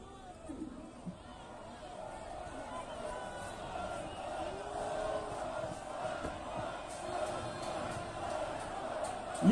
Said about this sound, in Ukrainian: Ви чули зараз вигуки «Ганьба».